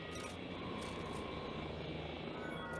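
A helicopter in the video game Ghost Recon Breakpoint drones steadily overhead, a continuous rotor and engine hum at moderate distance with faint periodic swells, no speech over it.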